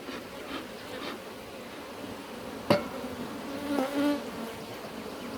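Honey bees drone softly around a wooden hive, a low steady buzz broken by a sharp knock and a brief scrape on the wood.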